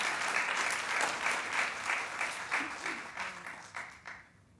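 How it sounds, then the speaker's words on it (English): A room of people at a panel talk applauding, dense steady clapping that holds for several seconds and then tapers off quickly to quiet. "Maybe one more round of applause just for all these excellent talks."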